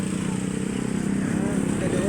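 Motorcycle engines drone steadily near a Manila port area, a continuous close rumble mixed with general street traffic noise.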